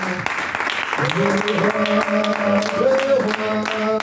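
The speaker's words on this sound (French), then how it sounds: "Nous allons acclamer notre Seigneur." A church congregation claps and acclaims the Lord during a service, steady applause mixed with sung and shouted voices and held musical tones.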